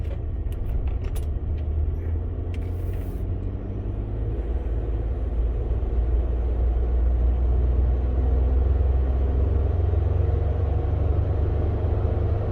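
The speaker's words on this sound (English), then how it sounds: "So we're up on the road. We're getting up on the highway here." A Ford truck with a replaced Ford 9.75 rear differential carrier drives along a highway, giving a steady, loud road rumble and engine drone heard from inside the cab. A few light metallic jingles come early on.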